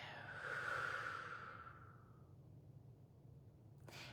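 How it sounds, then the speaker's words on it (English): A single slow breath during guided meditation, a soft airy inhale swelling then easing away, close and quiet, ending with a short sharp exhale. "Breathe in and breathe out."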